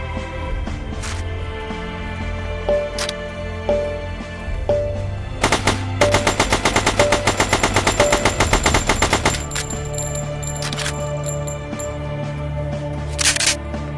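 Guns fire in Battle For The Sun, starting with scattered single shots and moving into a fast, loud, sustained automatic burst in the middle before dropping back to a few isolated cracks.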